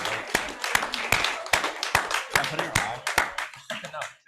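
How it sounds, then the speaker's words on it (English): Hands clap in a scattered round for students at a planetarium event, sharp distinct claps from a small audience, fairly near, with voices murmuring between them and the clapping thinning at the end. "How about a round of applause for our students?"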